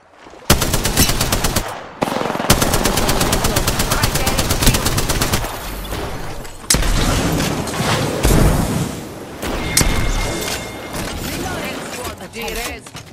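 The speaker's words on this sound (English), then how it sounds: "I'm opening fire" Sustained automatic gunfire from a duos match in the battle royale game Apex Legends, loud and close, with rapid bursts, brief pauses and a few heavier impacts running throughout.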